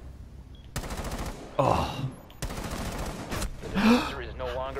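Gunfire from a first-person shooter video game comes as dense automatic bursts in several separate strings, loud and close, with a short exclamation and other voices in between.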